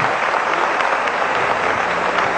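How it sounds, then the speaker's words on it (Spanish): Audience applause at a concert performance, a steady wash of many hands clapping at moderate distance, with no voices over it. "Gracias por los aplausos."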